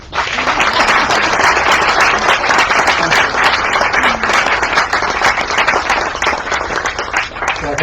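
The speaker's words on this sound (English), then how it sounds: "Applause one more time, please." Lecture audience giving a loud, dense round of applause, many hands clapping steadily and close for the whole stretch, with no pauses.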